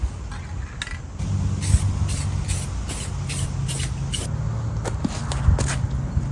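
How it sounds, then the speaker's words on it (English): A spray can hissing paint onto a vehicle lens, with several short bursts and longer sustained sprays close up, along with faint handling clinks and shuffling between passes. "mask adjoining areas to protect from spray mist"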